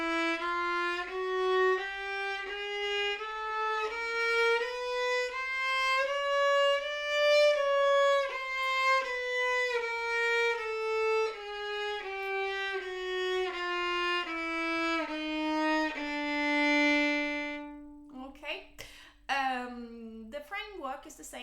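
A violin plays a D chromatic scale in even, steady semitone steps, rising then descending, bowed clearly and close, ending with a few quicker scratchy notes.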